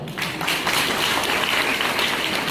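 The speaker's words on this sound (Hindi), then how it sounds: "इन कमीनों के लिए तालियां बजा दो एक बार" An audience claps in a sustained burst of applause, dense and fairly loud, with many overlapping hand claps forming an even wash that holds for a couple of seconds.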